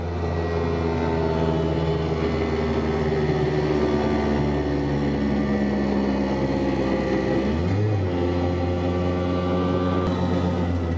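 A Piaggio Ape 50 three-wheeler runs steadily on a test drive, its small engine droning loud and close throughout with a brief dip in pitch near the end as it shifts or slows.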